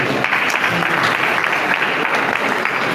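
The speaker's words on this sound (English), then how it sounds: "Please, more round of applause for you." Loud, close applause from a crowd at a college matriculation ceremony, a continuous dense patter of many hands clapping with slight swells, heard alone without talk.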